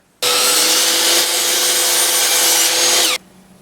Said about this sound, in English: I'm going to cut my edge band piece over at the miter saw to the correct length.